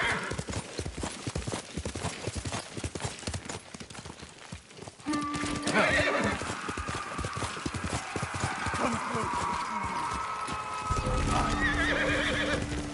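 In a video game, hooves clatter in a rapid gallop, then a horse lets out a loud, drawn-out neigh, with a second whinny near the end.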